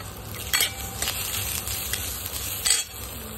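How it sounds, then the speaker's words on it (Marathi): Onion and coconut roast in a pan with a steady sizzle, broken by a few sharp scrapes and clinks of a spoon stirring against the metal. "कांदा पाहू शकता आपला थोडासा भाजत आलेला आहे"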